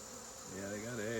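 Honeybees buzz at a hive, a faint steady hum that swells louder and more tonal partway through.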